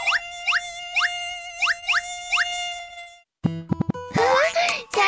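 Cartoon mosquito buzzing in a children's educational show, a series of short rising high-pitched whines repeating rhythmically, followed by squeaky cartoon effects and sliding tones.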